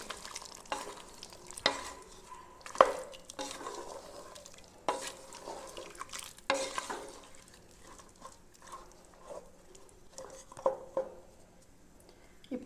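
A spoon stirs mutton pepper gravy in a pot, giving intermittent scraping clanks and wet sloshing over a soft sizzle, up close and without speech.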